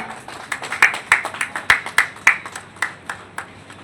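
Audience at a Union Bank of India MSME outreach event in Bhadohi claps to welcome a speaker, a fairly sparse round of individual hand claps, close and crisp, steady for several seconds.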